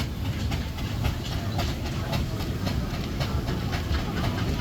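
Steam traction engine towing a traditional working trailer at a steam rally parade, a loud, continuous rumbling and clanking roll at close range with rhythmic chuffing and no talking.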